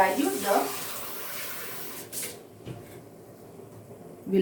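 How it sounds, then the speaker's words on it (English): Cooked toor dal water is poured into tomato rasam in a kitchen, giving a brief splashing rush of liquid that fades after about two seconds to quiet room noise. "Now slowly we'll add on this decanted water of the cooked Toor Dhal and add some more water to it."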